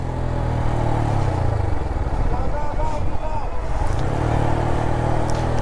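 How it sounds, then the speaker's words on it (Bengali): A motorcycle coasts downhill on engine braking, its low engine drone loud and continuous, with a rattling clatter and a dip then rise in engine note midway. "আমি কিন্তু টোটালি ইঞ্জিন ব্রেকে যাচ্ছি, এই জন্য আমার গাড়ির আওয়াজটা খুবই ফালতু হচ্ছে"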